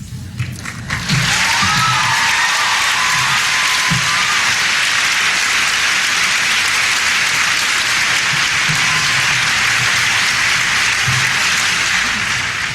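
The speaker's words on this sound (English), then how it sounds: "you clap more for Ferris than you clap for George" Loud, sustained applause from a large audience at a Wellesley College commencement ceremony, a dense wash of clapping that swells quickly and holds steady throughout, with a few louder claps and thumps near the start.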